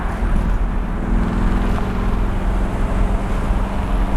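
A 1969 Chevrolet Camaro Z/28 V8 engine drones steadily and loudly with a low rumbling growl, continuous and close, without any clear revving up or down.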